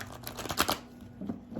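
Tarot cards are shuffled by hand in a few quick, soft riffling bursts, close and fairly quiet, with short pauses between them.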